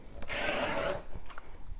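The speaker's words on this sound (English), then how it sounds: "Cut my strips." Rotary or blade cutter slicing fabric strips for bias tape along a ruler, a soft close rasping drag lasting about a second, followed by a few light taps and rustles of handling.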